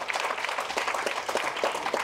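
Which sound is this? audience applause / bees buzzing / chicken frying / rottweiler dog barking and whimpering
audience applause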